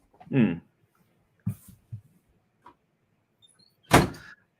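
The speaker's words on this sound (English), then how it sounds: "I had to slam the door on my kid's face" A household door slams shut during a home podcast recording about Arsenal, one loud sharp bang near the end, preceded by a few softer knocks and thumps in a quiet room.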